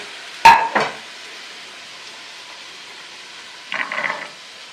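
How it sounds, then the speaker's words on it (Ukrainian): Two sharp scraping stirs of onion frying in a pan followed by a softer sizzling burst, with quiet frying hiss in between; no talking. "Поки смажиться цибулька, я буду різати капусту, картоплю."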